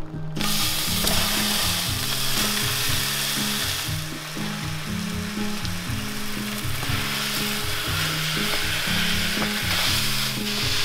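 Two pounds of lean ground beef browning in a pan give a loud, steady close-up sizzle with continual scraping and clicking stirring strokes.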